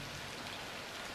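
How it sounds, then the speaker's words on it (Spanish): Rain falling in a steady, dense hiss, close and even throughout the short stretch, with no voices. "Comenzó el tiempo de las lluvias y comenzó a llover."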